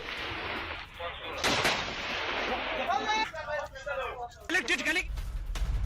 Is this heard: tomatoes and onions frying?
no